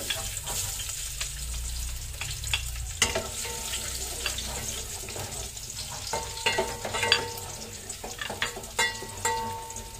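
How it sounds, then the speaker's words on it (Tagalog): Garlic frying in hot oil in a pot for sinigang sa miso, a steady close sizzle that grows busier after a few seconds, with clinks and stirring scrapes throughout. "Lagay na natin yung bawang."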